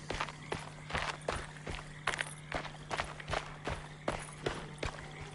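Muffled footsteps from the video game Alone in the Dark thud in a steady walking rhythm, about two steps per second, soft and padded against a faint low hum, with no voices.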